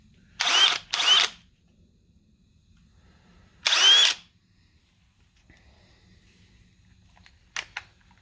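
A Dewalt 20 volt cordless hammer drill (DCK2100D1T1 kit) gives two short close bursts, then a longer one after a pause, with a faint click near the end.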